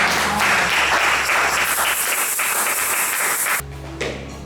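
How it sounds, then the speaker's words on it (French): A church congregation applauds with dense, steady clapping that fills the room, then breaks off abruptly near the end as a low hum remains. "Nous pouvons encore l'acclamer."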